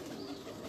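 Pigeons cooing on a rooftop where fancy pigeons are kept, a soft, low, steady murmur of coos running throughout the short moment with no voices.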